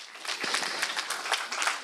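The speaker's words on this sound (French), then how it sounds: "Je trouve qu'on peut les applaudir une fois de plus" A crowd at the closing keynote of ODESS 2024 gives a steady wash of applause for the prize winners and their projects, with no single claps standing out.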